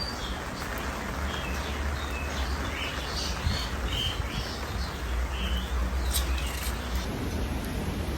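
Birds chirp and tweet in short bright calls inside an aviary enclosure at a bird park in Bintaro, scattered over a steady, dense wash of background noise with no one talking.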